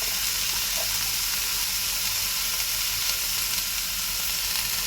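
Kashmiri chilli and dry spices sizzle in hot oil, a steady bright frying hiss that carries on evenly throughout, close and loud, with no talk.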